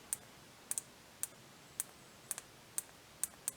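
A small button on a Guy Man RGB LED electronics kit is pressed repeatedly, giving about a dozen crisp, close clicks at an irregular quick pace, some in quick pairs, over a faint steady hiss.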